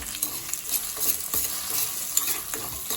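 Green chilies sizzle steadily in hot oil in a pan for Rayalaseema-style uggani (puffed rice) while a spoon stirs with repeated scraping strokes, close and clear with no talking.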